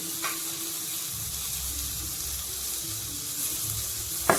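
Garlic, coriander leaves and cooked rice sauté in a hot pan, giving a steady soft sizzle with a couple of brief scraping stirs, close by and without talk.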